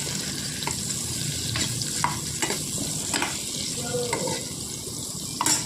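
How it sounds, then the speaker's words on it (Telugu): Dondakaya masala fries in a pan over a low flame with a steady close sizzle, broken by occasional scraping stirs and no voices. "ఇలా అంతా బాగా వేయించుకోవాలండి లో ఫ్లేమ్ పెట్టుకొని"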